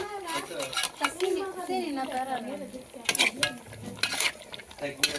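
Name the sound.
stirring and frying beef with potatoes in a pan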